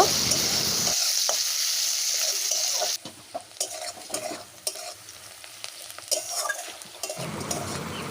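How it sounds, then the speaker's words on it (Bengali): Sliced onion frying in a pan over cumin and dried red chilli tempering, with a strong sizzle at first and then intermittent spatula stirring and clinks against the pan, close and clear. "দিয়ে দেব কিছুটা পেঁয়াজ ভালো করে নেড়ে চেড়ে ভেজে নেব"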